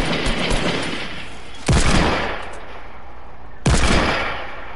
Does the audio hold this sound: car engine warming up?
no